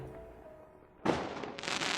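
Fireworks burst suddenly and loudly midway through, following a quiet stretch, then crackle and fizz on for the rest of the scene in a Doki Doki Literature Club mod at a Christmas and New Year celebration.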